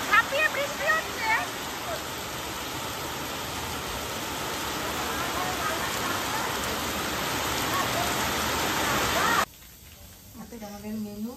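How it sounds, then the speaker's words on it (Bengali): Heavy rain pours down in a downpour, a loud steady dense hiss that builds gradually before cutting off abruptly near the end, where a voice speaks. "না না, বৃষ্টির আওয়াজটা, ঝাঁপিয়ে বৃষ্টি হচ্ছে।"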